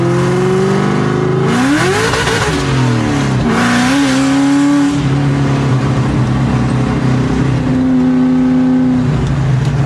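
A cammed, Whipple-supercharged Ford Mustang Cobra Terminator engine is revved hard to the rev limiter on a cold day, rising, bouncing and holding at high rpm, loud and close throughout, with a brief drop and climb partway through.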